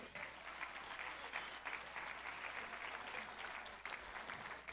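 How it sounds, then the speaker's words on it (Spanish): A church congregation applauding during a Sunday worship celebration, a soft, steady patter of many hands clapping that sounds distant and low in level, continuing evenly throughout. "Dale un aplauso al Señor."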